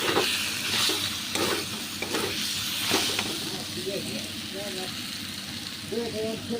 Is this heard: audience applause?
no